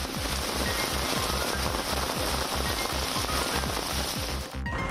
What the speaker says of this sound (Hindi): ये तस्वीरें बंगलुरु की है जहां मुसीबत की मूसलाधार बारिश हो रही है